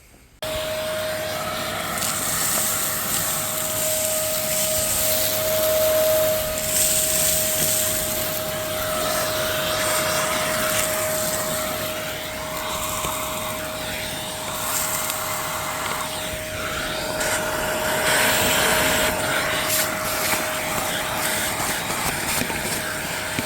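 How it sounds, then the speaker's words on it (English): Shop vacuum cleaner hoovering dry dirt from an old International tractor, a steady loud whine with a constant tone, continuous with slight surges as the nozzle moves. "What if I can hoover it? We're going to hoover her."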